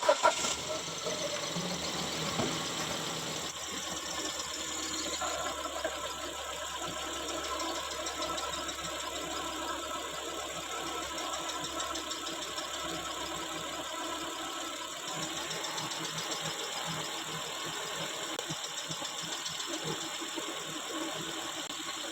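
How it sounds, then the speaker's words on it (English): A car that is jacked up during a radiator replacement starts with a brief crank and catch, then settles into a steady, even idle that runs on alone. "I'm going to start the car up now."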